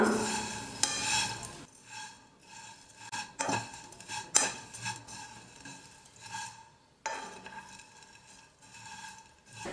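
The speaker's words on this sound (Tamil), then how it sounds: "ஸ்டவ்வை மீடியம் ஃப்ளேம்ல வச்சிட்டு ஒரு 2 நிமிஷம் சேமியாவை நல்லா வறுத்துக்கலாம்." Vermicelli dry-roasting in a kadai over a medium flame, a soft rustling scrape of a spatula tossing the strands in bursts, with quieter gaps between strokes.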